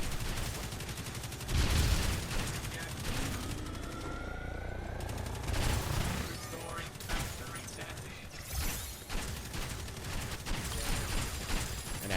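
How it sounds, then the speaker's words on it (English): Gatling gun in a third-person shooter video game unleashing long rapid bursts of gunfire with mechanical whirring and clanking, loud and continuous, interspersed with game effects. "Gatling gun! Unleashed!"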